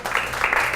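A school classroom of students claps in brief applause, a dense patter of hands for under a second.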